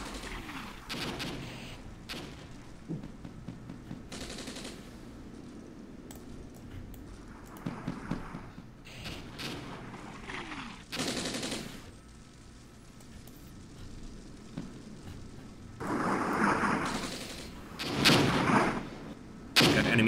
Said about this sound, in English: Enemy artillery as well, so they definitely purchased artillery and aircraft, which makes sense.